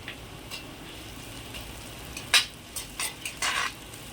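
Onions fry with a little salt in a pan while being stirred, giving a soft, steady sizzle broken by several sharp scrapes and clinks of the spoon against the pan.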